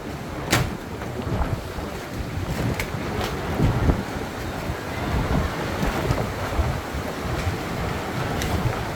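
Strong wind roars across open sea around a boat, a constant low buffeting rush with sloshing waves and occasional knocks, no voices.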